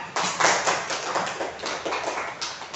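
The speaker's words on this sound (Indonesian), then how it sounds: "Ya, tepuk tangan untuk kalian semua." Children in a primary school classroom clapping together, a dense, uneven patter of hand claps that swells and fades over a few seconds, fairly close, with no voices over it.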